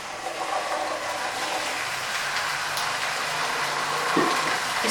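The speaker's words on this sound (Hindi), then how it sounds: "भिंडियों को हमने फ्राई करना है" Okra (bhindi) frying in hot oil for a Punjabi keri wali bhindi, giving a steady, even sizzle that holds close and continuous throughout with no voices.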